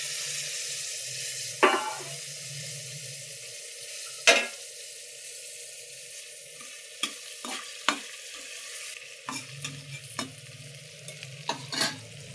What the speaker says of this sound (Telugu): ఇప్పుడు మనం దోసకాయ పచ్చడికి కావాల్సిన వేగా అన్ని పోపులు వేసుకుని వేపుకుందాం.